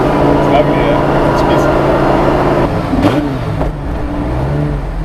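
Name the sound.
Porsche 917 replica with Audi R8 V10 engine revving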